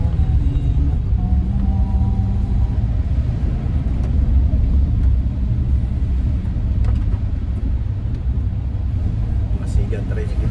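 A motorized tricycle engine rumbling steadily through the scene with a low, continuous drone, heard while people talk nearby.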